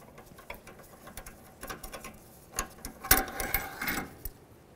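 A ratchet working to remove an inner tie rod tool from the power steering rack of a 2009-2020 Dodge Journey, giving a series of light clicks and mechanical rattles that build into a louder, busier burst near the end, close by with no talking.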